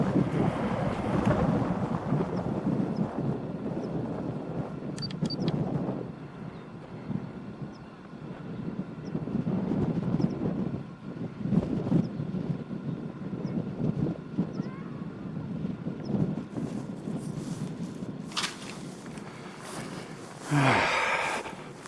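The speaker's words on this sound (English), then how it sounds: "There's a gentle breeze blowing up." Gentle breeze blowing across a hillside paragliding and slope-soaring site, buffeting the microphone as a steady low rumble that swells and eases throughout, with a stronger gust near the end.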